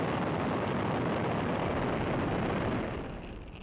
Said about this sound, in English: And liftoff of Starlink 659. Go Falcon, go Starlink.